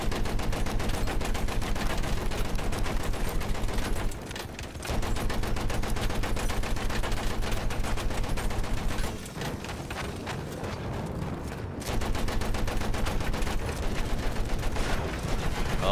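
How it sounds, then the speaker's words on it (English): An anti-aircraft gun in the video game Battlefield 1 pounds out rapid, steady automatic bursts, loud and close, with brief pauses near four and ten seconds before the fire resumes. "No, the AA gun's hitting us."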